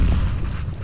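A grenade blast in the shooter game CS:GO, a loud low-heavy boom that rolls on and settles over roughly a second, with no voices over it.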